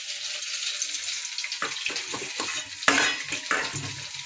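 Capsicum hisses and sizzles as it fries in a hot wok, with a steady frying hiss broken by stirring scrapes and a few louder bursts toward the end, close up and without talk.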